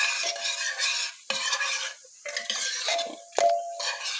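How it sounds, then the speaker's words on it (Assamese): Dal being stirred in a pot over a gas flame, a spoon scraping and clinking against the metal in a few irregular strokes over a faint steady sizzle, close and moderately loud. "এতিয়া অকণমান লৰাই দিম।"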